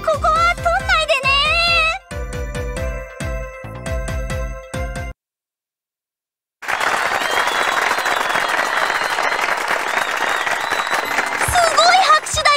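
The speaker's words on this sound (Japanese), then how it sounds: "すごい拍手だよ。" Loud applause from a crowd swells and continues for several seconds in a video game story scene, following a stretch of bright jingling game music and a brief silence.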